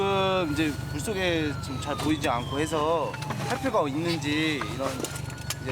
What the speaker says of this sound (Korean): 돌섬에 접안된 고무보트 주위로 사이렌 소리가 울려 퍼집니다